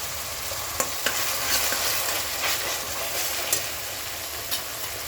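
Ginger garlic paste frying in a pan for a Punjabi-style butter bean curry, a steady dense sizzle with a few faint stirring clicks, close and continuous with no talking.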